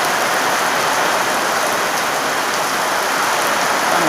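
Heavy rain pours steadily in an early-morning storm, a dense, loud, unbroken hiss of drops hitting surfaces close by, with no voices.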